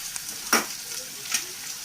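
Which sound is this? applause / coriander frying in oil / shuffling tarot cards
coriander frying in oil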